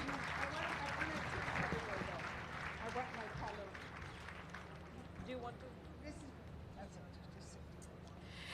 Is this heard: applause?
yes